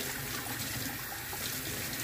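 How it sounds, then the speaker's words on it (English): Steady rush of tap water running over a paint brush in a sink, close and even for the whole clip, with no talking. "I'm gonna get out as much as I possibly can by running it underwater"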